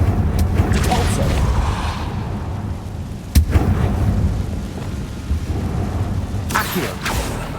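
Repulso spell blasts in the video game Hogwarts Legacy, heavy booming impacts over a constant low rumble of game sound, with a sharp loud hit midway and a further burst near the end.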